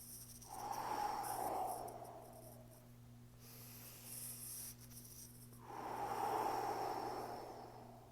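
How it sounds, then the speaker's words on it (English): Two slow, deep breaths, each a long airy inhale-exhale whoosh close to the microphone, separated by a quiet pause, over a faint steady hum. "In through your nose, out through your mouth, fill your lungs, and then empty them out."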